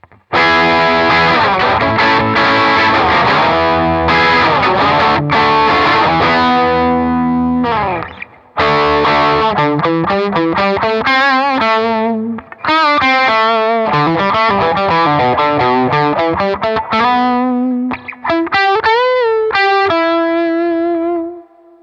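Electric guitar played through a Joyo Klon-clone clean boost pedal at full blast, loud and mildly gritty, sustained chords then melodic single-note lines with a short pause in between.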